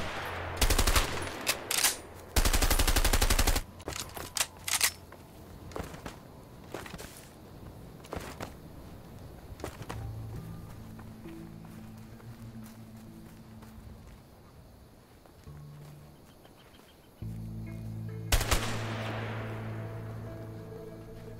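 An MP5 submachine gun fired in A Way Out during target practice, loud close bursts and single shots early on, then sparser cracks among footsteps and ambient hum, with another sharp shot near the end.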